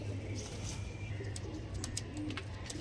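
Fancy pigeons coo faintly in low, repeated murmurs amid a steady background hum and occasional light clicks, with muffled voices nearby.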